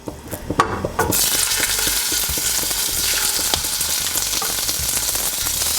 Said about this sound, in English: I'm going to add some olive oil to the pan. You can see that that pan is pretty hot, so we're ready to go. And I'm going to start adding some pork to the pan.